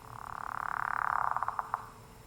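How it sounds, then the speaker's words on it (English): A frog croaks in water within a video game, a single swelling call that builds to a loud drawn-out croak and breaks into a few quick pulses before fading. "This goes here because it's a frog in the water."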